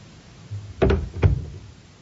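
A front door in a house hallway opens and shuts, two distinct knocking thumps about half a second apart with a faint rattle between, heard alone in a quiet interior.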